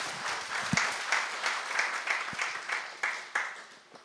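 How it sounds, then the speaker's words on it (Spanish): A congregation at a Spanish-language church sermon claps for the Lord, moderate and steady with a few sharper hand slaps standing out, fairly quiet throughout. "Un aplauso al Señor."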